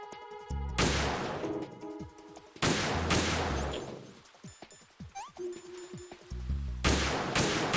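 Three heavy, booming rifle shots ring out in Metal Gear Solid 2, loud and well spaced, each with a long decaying tail. Lighter metallic clinks and bullet impacts fall in between the shots.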